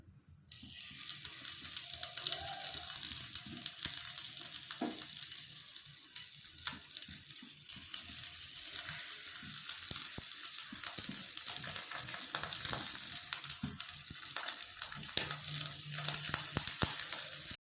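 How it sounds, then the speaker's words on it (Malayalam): Dried mullan fish frying in coconut oil in a pan, a steady hiss and crackle of hot oil that runs the whole time with a few faint stirring clicks and no voices. "ഞാൻ പാനിൽ വെളിച്ചെണ്ണ വെച്ചിട്ടുണ്ട് ഇതിലേക്ക് ഇനി നമുക്ക് നമ്മുടെ ഉണക്കം മുള്ളനിട്ട് കൊടുക്കാം"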